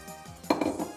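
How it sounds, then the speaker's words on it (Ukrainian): A brief clatter and sizzle as porcini mushrooms drop into a frying pan, with a few light metallic knocks; short and fairly close. "Ми витягнули наші грибочки, додаємо їх на сковорідку."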